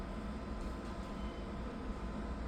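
A train at a London station, heard as a steady, even rumble that fills the whole stretch with no distinct events and no talk.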